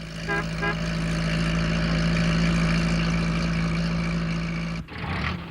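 A postman's van engine runs at a steady, low drone for several seconds on a country road, then the tone drops briefly and picks up again.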